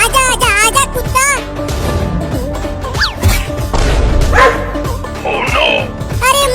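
A cartoon puppy yaps and bow-wows in a busy, loud comic scene, its barks mixed with music, crash effects and voices.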